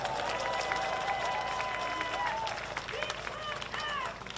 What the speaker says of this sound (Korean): 소방관들에게 축하 박수 한번 보내주십시오.